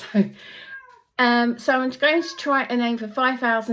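A cat meows a few times, brief and high, while a person talks steadily close by.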